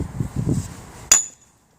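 A single sharp metallic strike with a short ringing decay comes from a hammer driving a stake or auger deeper into the ground while setting up a 10 by 10 foot tent. A low rumbling murmur precedes the hit.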